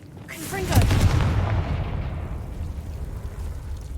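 A Confringo spell explosion in Hogwarts Legacy: a sharp, loud blast swells into a deep rumbling boom that slowly trails off, heard alone.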